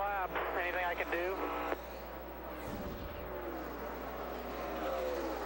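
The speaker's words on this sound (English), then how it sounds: "there you hear and see Carl Edwards off the pace in the 99 car" Carl Edwards's No. 99 NASCAR stock car drops off the pace at the 2012 Brickyard 400, its engine a steady drone under crackly team radio chatter that ends early, with a brief whooshing pass midway.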